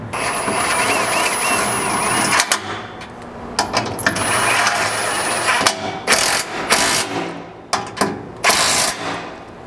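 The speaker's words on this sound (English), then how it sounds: "grab a 19mm socket and tighten all those up" A ratchet with a 19mm socket tightens rear bumper bolts on a second-generation Toyota Tacoma, giving close, loud bursts of rapid clicking that stop and start in several runs with brief pauses between them.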